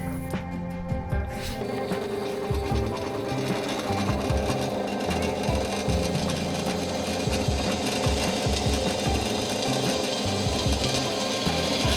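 A steady, loud mechanical whir with rapid grinding chatter as a bench drill press bores through steel, continuous throughout with no talking.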